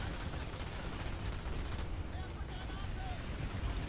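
Dense, continuous gunfire in the online shooter Planetside 2 while under heavy enemy attack, a loud, steady barrage of overlapping shots and bursts filling the whole stretch, with no pauses.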